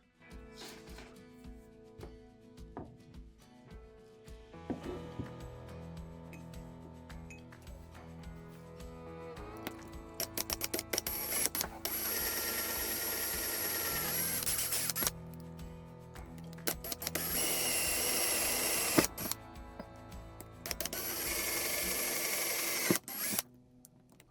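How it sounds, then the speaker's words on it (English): A power drill whirs in repeated bursts, drilling freehand into a Victorinox Classic pocket knife, spinning up loud and steady, pausing briefly, then biting in again with a high metallic whine. "the next thing to do is just drill this out."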